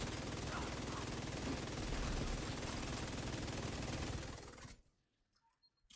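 Sustained automatic gunfire in The Division 2 hammers on loud and continuous for several seconds, then cuts off abruptly into near silence with a few faint scattered clicks.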